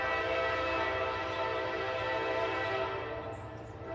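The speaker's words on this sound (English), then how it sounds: "This stupid train." A train passes at a distance, its horn sounding as one long, steady, multi-tone blast over the rumble of the rails that fades slightly toward the end.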